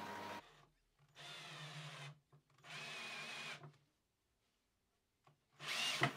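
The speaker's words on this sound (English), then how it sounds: "I took the whole assembly to the drill press again and drilled the holes that would house the screws that would hold everything up" A drill press bores screw holes into a rustic wood beam in three separate runs, each a loud, steady whine with a low motor hum, separated by quiet pauses, and a short final burst near the end.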